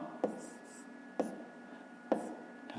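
Numbers are written by hand in a school maths exercise, with a pen or pencil tapping and scratching on paper in three distinct strokes, close and faint, over a quiet room hum.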